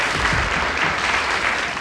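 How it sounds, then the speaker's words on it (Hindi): Applause after a boy named Sonu recites a poem, a short, even burst of crowd clapping heard alone. "सोनू की पोएम सुनकर सबने जोरदार तालियां बजाईं"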